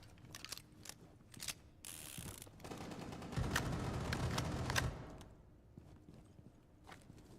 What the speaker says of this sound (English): Loading mag.